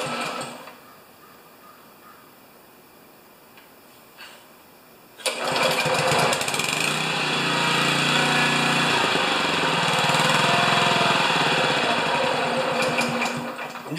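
An older Honda lawn mower engine catches after quiet fiddling and roars into a loud, steady, rattling idle close by, with no talking over it.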